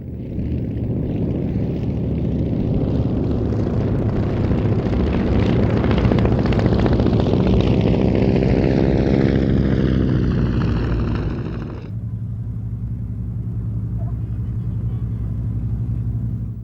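A formation of propeller trainer aircraft flying past at the Mildenhall Air Fete, a loud droning engine rumble with a pitch that sweeps downward as they pass overhead, cutting to a quieter steady hum near the end.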